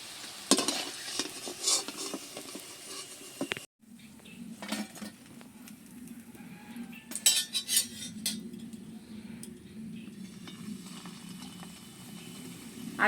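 Chhena rolls frying in desi ghee in a pan, a continuous sizzle with spatula scrapes and light metallic clinks, a brief pause partway through, then the frying carries on steadily.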